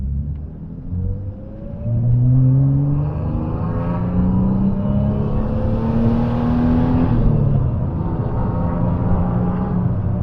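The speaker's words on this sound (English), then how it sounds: "That proper old school big 6-cylinder growl" A 1995 Ford Falcon GLi (EF) with a big six-cylinder engine, manual gearbox and loud aftermarket exhaust growls steadily at highway speed, a deep continuous drone with rising and falling harmonic tones over road rumble.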